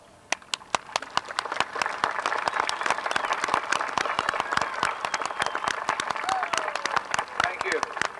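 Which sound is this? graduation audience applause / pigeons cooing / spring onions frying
graduation audience applause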